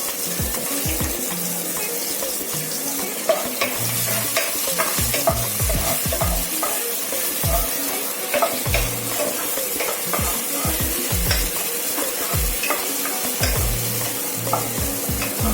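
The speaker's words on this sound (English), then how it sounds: "Now that the garlic is turned golden, we'll add thinly sliced onions." Thinly sliced onions stir-fried with golden sliced garlic in hot oil, a loud steady sizzle broken by rapid, repeated scraping and knocking of a spatula against the pan.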